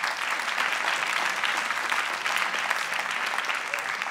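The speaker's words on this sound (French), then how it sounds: "On vous applaudit." An audience at a city's new-economy award ceremony breaks into sustained applause, a dense, even wash of clapping that carries through the whole stretch at moderate loudness.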